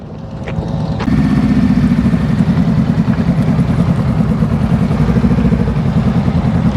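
A motorcycle engine runs close and loud at a steady low idle-like speed through a slow-riding practice drill, its rapid even chugging thrum holding constant after starting up about a second in.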